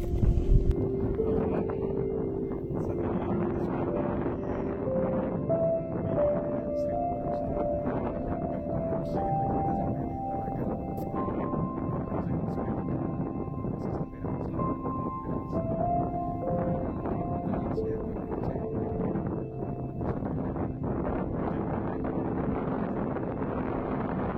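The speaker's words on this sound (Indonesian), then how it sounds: "Angin yang berada di sekitar kawah Gunung Gamkonora cukup kuat" Strong wind at the crater of Mount Gamkonora buffets the microphone in a constant, heavy rush, with faint tonal music underneath throughout.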